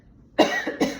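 A single person's cough, two or three quick close bursts following a moment of quiet, loud and abrupt within about a second, with no talk.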